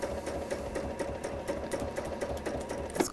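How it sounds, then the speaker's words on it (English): A sewing machine with cream thread stitches along fabric piping, a steady fast mechanical whir with rhythmic ticking of the needle, close and moderately quiet, with no voices. "I'm just going to do a reverse stitch in that corner just to strengthen it slightly. And then I'm going to carry on sewing down"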